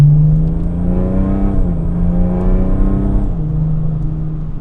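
A 2014 BMW 330d F31 M Pack, a 3.0-litre six-cylinder diesel tuned to Stage 2 with a stock gearbox, pulls hard from inside the cabin, its droning engine note climbing through quick gear changes, loud and steady with no voices.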